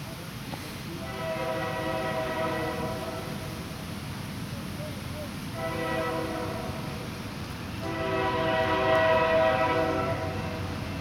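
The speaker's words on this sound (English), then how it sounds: "The freight train coming, hear it?" A passing freight train sounds three long, loud horn blasts over the steady rumble of rolling cars, heard from trackside.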